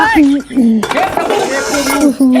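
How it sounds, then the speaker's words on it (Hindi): Metal dishes and pots clatter and clink loudly as they are scrubbed in cold water, with a voice talking over much of the clanking. "अब बुता कराई बर्तन मांजे ठंडा ठंडा पानी है"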